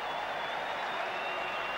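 Cricket crowd in a 1991 match against Sri Lanka cheering and applauding a boundary, a broad sustained roar of many distant voices and clapping, steady and unbroken.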